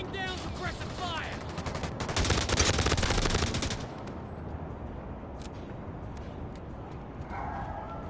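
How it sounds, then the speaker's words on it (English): Rapid bursts of automatic machine gun fire ring out in the video game The Division Resurgence, a loud fast rattle over a few seconds, followed by quieter game ambience and scattered sounds. "Laying down suppressive fire."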